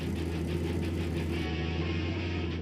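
A drag boat engine idles steadily after starting, warming up with a loud, constant low rumble and a busy mid-range roar, close and continuous throughout with no voices.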